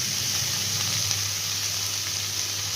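Tomato dropped into a hot pan over onion while cooking a potato and yardlong bean curry, giving a loud, continuous, even sizzle with no voices.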